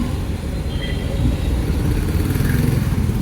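A car's engine hums steadily and close in first gear as it pulls away, a continuous low rumble with slight rise in revs and no voices.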